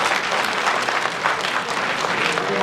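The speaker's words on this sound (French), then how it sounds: "Ah, applaudissez." A crowd at an international employment forum in Togo claps steadily, a continuous mid-level wash of applause without pause.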